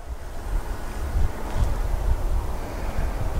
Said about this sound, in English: I have trouble with the wind.